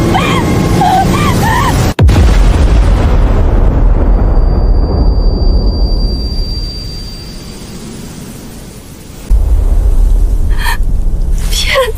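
An anime self-detonation explosion: a sharp blast followed by a long roaring, rumbling burst that slowly fades, then swells again, loud and alone without talk.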